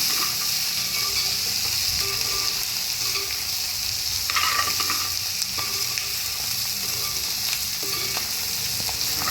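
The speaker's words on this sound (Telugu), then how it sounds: "చక్కగా చూడండి అడుగంటుకుండా ఎట్లా వేగిందో." Goat blood curry fries in a pan in a village-style kitchen, giving a steady, close sizzle and crackle with occasional scraping stirs against the metal.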